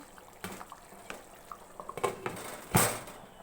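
A spoon stirs methi chicken biryani in a pot, making scattered soft scrapes and light clinks. A sharper metallic clatter, like a lid or plate being handled, comes near the end, and a quiet background hiss runs throughout.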